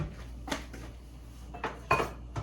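Kitchen items being handled during washing before cooking, a few faint clinks and knocks of dishes and utensils spaced irregularly over a quiet background.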